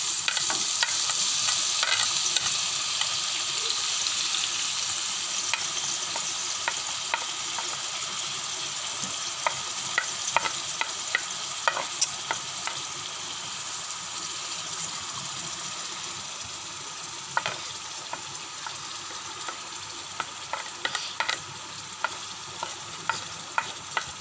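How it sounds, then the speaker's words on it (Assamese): Bay leaves, dried chillies and spices frying in hot oil for an Assamese egg gravy, a steady bright sizzle that slowly fades, with scattered clicks and scrapes of stirring growing more frequent toward the end. "এতিয়া গৰম তেলত তেজপাত 2 গিলা, শুকান জলকীয়া আৰু মছলাবোৰ দি ল'ম।"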